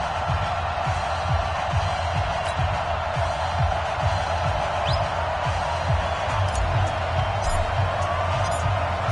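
Home crowd cheering inside Hard Rock Stadium in South Florida before a Dolphins–Bills NFL game in an EA Sports football video game, a steady, dense roar of many voices filling the space without a break.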